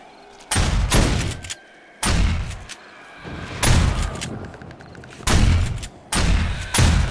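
Repeated bursts of gunfire in the zombie survival game 7 Days To Die, Ravenhearst mod, during a blood moon horde night: four or five loud, booming volleys separated by short pauses, each trailing off, with no talk.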